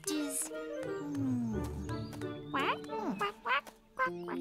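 Cartoon ducks quack in quick, bright bursts, several calls bunched together with pauses, layered over a busy animated soundtrack with high chirpy voices mixed in.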